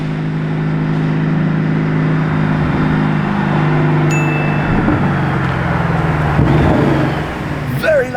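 A Lamborghini Urus and a Temerario pass by on a street in Sant'Agata Bolognese, with a loud, sustained engine drone and low rumble filling the whole stretch and a brief voice near the end.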